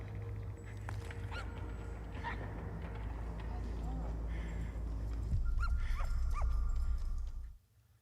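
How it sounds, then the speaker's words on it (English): A dog in the German TV series Dark barks and whimpers among background music and scene sounds, with short yelps standing out near the end before a sudden drop to near silence. "Oh, it was her dog!"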